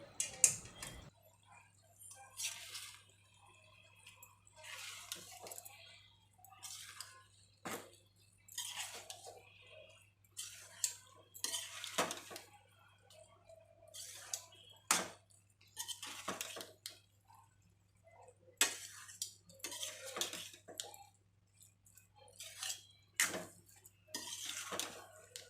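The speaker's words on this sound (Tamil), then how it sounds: "இப்போ நம்ம அப்படியே நல்லா கலந்து விட்டுக்கலாம் கரண்டி வச்சு." Egg semiya stirred with a ladle in a pan, giving repeated scattered metallic scrapes and taps at a moderate distance over a steady low hum, with no talking.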